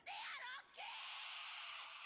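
A kid screams in an anime boxing episode, a sustained shrill, wavering shriek that breaks off briefly and then resumes, loud and continuous, with no other talk.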